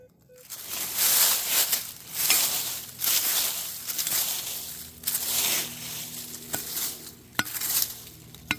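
A shovel digs into the ground at an old house site in East Tennessee to unearth a buried piece of iron, through soil mixed with surface iron and glass. Repeated close, rough scraping and crunching bursts follow an uneven rhythm.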